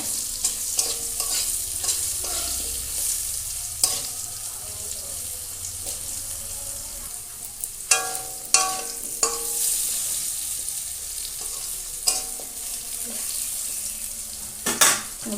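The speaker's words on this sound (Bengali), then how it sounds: "এগুলো ভেজে এবার শাকটা দিয়ে দেবো ওর মধ্যে" Pumpkin greens and fish stirring and frying in a pan with turmeric and green chilli, soft sizzle under scattered spoon scrapes and clinks, with a few sharper knocks and a faint running-water wash in places.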